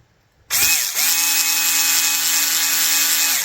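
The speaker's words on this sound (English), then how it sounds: "hyper tough drill." A Hyper Tough power drill with a 2.5 hex bit starts abruptly, spins briefly, then runs at a steady high whine while driving a screw into a Traxxas TRX4 portal axle servo mount.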